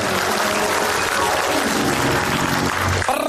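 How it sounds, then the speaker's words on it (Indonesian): Studio audience applauding a comedian on a comedy talk show, a steady dense wash of clapping that fills the whole moment at close range, with no voices over it. "Tepuk tangan untuk Komeng."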